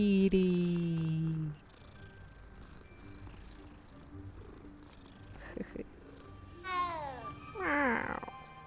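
A cat in the Hogwarts Legacy video game meows loudly at the start, then purrs softly under quiet game ambience, with a few more rising meows near the end.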